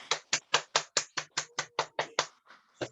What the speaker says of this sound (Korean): 감사의 뜻으로 박수 부탁드립니다.